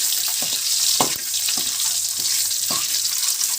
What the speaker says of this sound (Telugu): అలాగే చిటికెడు కారం వేసుకొని బాగా వేయించుకోవాలి.